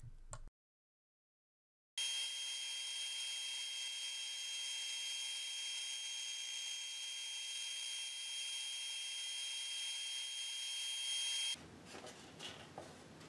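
Power-driven Accu-Slice system slicing two thin wood veneer boards down to about five thousandths of an inch, a steady loud machine whine with a constant tone running for roughly ten seconds, starting and stopping abruptly.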